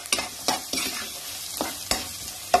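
Green and red chillies fry with salt in ghee, crackling in a steady sizzle broken by repeated scraping strokes of a spoon against the pan, close and fairly loud with no talking.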